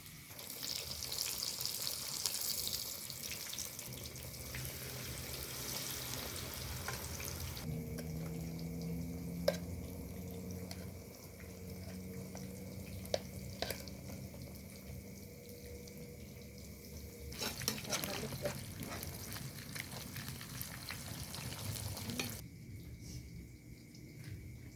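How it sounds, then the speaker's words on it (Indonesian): Mendoan tempeh frying in hot oil, giving a steady, dense sizzle and crackle that runs throughout, joined by occasional louder pops and a low hum. "Minyaknya sudah panas, kita masukkan tempenya."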